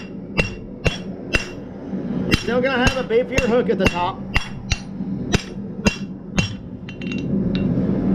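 Sharp metallic hammer blows flattening metal for a trammel hook ring out one after another at a steady, unhurried pace, close by, with someone speaking briefly between strikes.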